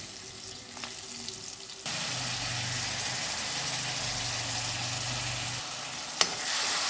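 Onion, turmeric, curry leaves and ginger-garlic paste hit hot oil for mutton curry. A quiet hiss jumps into a loud, steady sizzle with stirring, and a sharp clink comes near the end.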